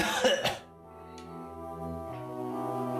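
A short burst of coughing up front over a Golden Sun game, then a low sustained musical drone continues on its own.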